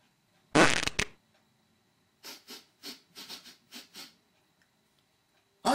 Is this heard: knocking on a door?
no